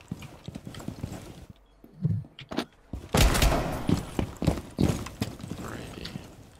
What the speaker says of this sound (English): Why did I shoot twice?